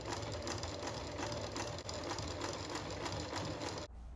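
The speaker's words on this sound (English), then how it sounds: "I will simply fold over this top layer around the one underneath it and top stitch it down." A sewing machine topstitches fabric at close range in a fast, even mechanical patter that runs nearly nonstop, with a short hitch midway before it stops abruptly at the end.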